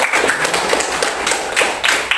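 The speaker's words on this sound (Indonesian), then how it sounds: "tepuk tangan untuk Rizky" Students in a classroom clap for a classmate. The clapping is steady and fairly loud, with irregular claps from several pairs of hands close by.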